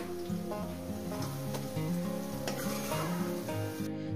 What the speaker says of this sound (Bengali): দেখছেন বন্ধুরা, পেঁয়াজটাকে আমি কি সুন্দর করে ভেজে নিচ্ছি।